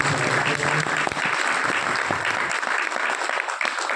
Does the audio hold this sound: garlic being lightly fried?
no